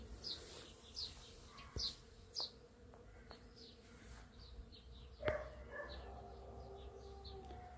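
Bees and other insects buzzing around blooming fruit trees in a backyard in Croatia, faint and intermittent against a quiet outdoor background, with a dog barking in the distance and a few sharp knocks.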